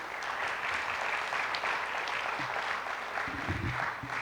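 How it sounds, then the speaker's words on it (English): An audience at an alumni association awards ceremony gives award winners a steady round of applause, dense clapping throughout with a few faint voices underneath. "Let's have one more round of applause for our award winners,"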